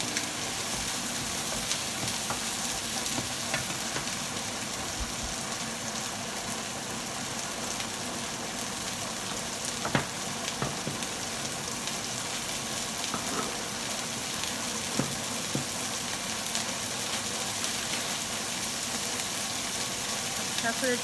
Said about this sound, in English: lightly fry.